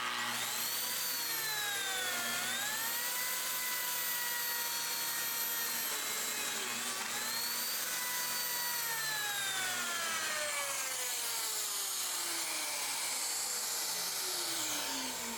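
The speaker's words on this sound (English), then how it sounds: "we're gonna cut a mortise" A Lamello Zeta P2 joiner cuts a mortise into a wooden workpiece, its high motor whine rising and falling in pitch as the blade bites and eases through the wood, loud and continuous throughout.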